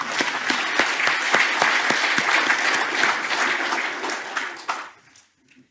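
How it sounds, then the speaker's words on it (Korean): A temple congregation claps together during a Korean Won Buddhist dharma talk, a steady burst of applause lasting about five seconds before tapering into quiet. "고마운 나를 위해서 박수를 한번 치겠습니다."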